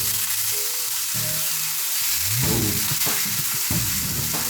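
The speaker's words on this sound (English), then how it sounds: "We added our burgers to a hot griddle." Burgers smashed onto a hot oiled griddle sizzle with a loud, steady broadband hiss, broken by scraping and pressing thumps partway through; no one speaks.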